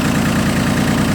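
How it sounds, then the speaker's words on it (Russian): A Japanese Yanmar YM1802 single-drive tractor fitted with a rotary tiller idles evenly, a loud, close, steady low engine rumble with a fast regular pulse and no voices. "Двигатель работает ровно"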